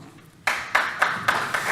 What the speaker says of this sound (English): no hands up, but applause